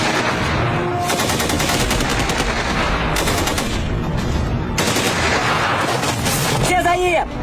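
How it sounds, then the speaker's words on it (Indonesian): Bursts of rapid gunfire ring out in a Chinese police drama, loud dense volleys of automatic shots crackling almost continuously with brief pauses between strings. "melepaskan tembakan lagi"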